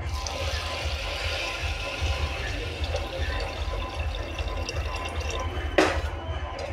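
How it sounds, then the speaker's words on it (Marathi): Cold water poured into a pot of rice mixture for masale bhat, a steady close gush and splash with a low rumble, ending in one brief louder splash. "आता मी त्यात पाणी ॲड करते"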